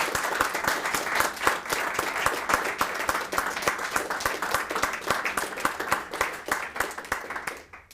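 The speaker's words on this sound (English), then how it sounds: "a warm and generous and long-lasting round of applause is the best we can" A long, warm round of applause from an audience at a legal review event, many hands clapping in a dense, steady patter that stays strong before fading at the very end.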